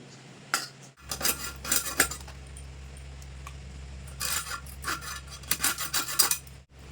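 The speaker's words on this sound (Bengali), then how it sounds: "এখন আমি মাছের মাথাটা কেটে নিই" A knife works through a rohu fish head on a hard surface, giving repeated scraping, grinding cuts in irregular bursts with metallic clinks, close and fairly loud.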